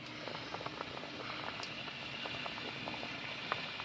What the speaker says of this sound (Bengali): গ্রেভি আমার ভালোভাবে ফুটে গেছে, এই যে গাঢ় গাঢ় হয়ে গেছে।